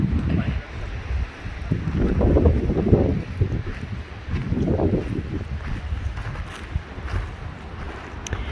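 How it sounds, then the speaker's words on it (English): Strong, cold wind gusts outdoors in Colmar, surging and easing in broad buffeting waves that roar across the microphone throughout, loud and close with no clear talk. "It's too cold and too windy."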